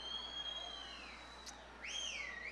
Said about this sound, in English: I knew in Gore I could get a couple of those whistles going.